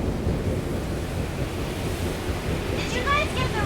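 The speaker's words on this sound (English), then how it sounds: "Your feeble body cannot overpower such tremendous gusts!" Strong gusts roar steadily in the Guardians of the Galaxy video game, a broad rushing like surf, with faint chirping tones near the end.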